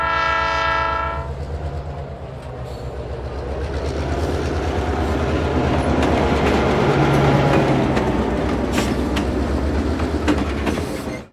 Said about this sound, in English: The Bunnyman was hit by a train, killing him instantly.